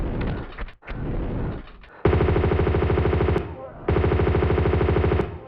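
Pistol gunfire aimed at flamethrower enemies in Tomb Raider 2, loud and rapid with steady, evenly spaced shots in two long bursts after a rougher, noisier opening.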